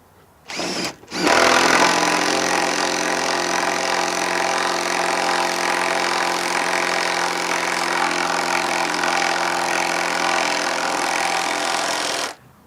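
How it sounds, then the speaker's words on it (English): A power drill drives a lag screw while a motorized shade housing is mounted, starting with a short blip, then one long unbroken high-pitched whirring run of about eleven seconds before stopping. "Grab your other drill and your lag."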